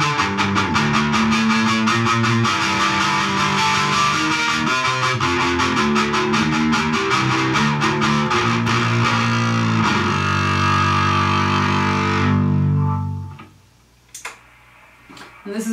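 Electric cello run through a Ball of Fire effects pedal, a dense, distorted and sustained tone with rapid ticking pulses, playing loud and continuous for about twelve seconds before cutting off into near silence with a few faint knocks.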